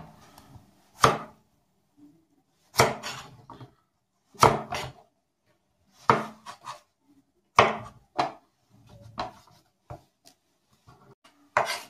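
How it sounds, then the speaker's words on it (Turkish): A kitchen knife chops zucchini on a cutting board, sharp solid knocks falling in clusters every second or two, close and distinct with quiet gaps between. "Bir tane kabak daha doğrayayım."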